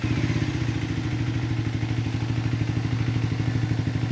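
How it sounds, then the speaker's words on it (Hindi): A Triumph Tracker 350 motorcycle engine idling at normal rpm, a steady, close, loud single-cylinder thump with a fast even rhythm and a mechanical clatter, heard alone. "नॉर्मल आरपीएम कुछ ऐसा साउंड है।"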